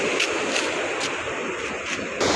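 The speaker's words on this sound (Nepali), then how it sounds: "यो थिम्पू खोला र पारो खोला मिसेर चाहिँ है एकदमै ठुलो भएको छ खोला चाहिँ।" A swollen river roaring at the confluence of the Thimphu and Paro rivers, a loud, dense, constant rush of water with some wind buffeting the microphone.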